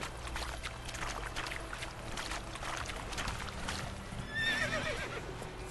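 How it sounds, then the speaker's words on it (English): A frightened horse whinnies in The Witcher 3 video game, a short shrill neigh rising near the end over constant rushing background noise and a hint of hoofbeats. "Yeah, the horse is afraid as well."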